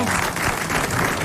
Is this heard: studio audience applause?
yes